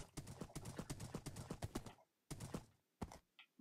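Horse hooves clopping in Minecraft, a rapid, even run of close hoofbeats that stops, then returns in two shorter bursts with a brief high note near the end.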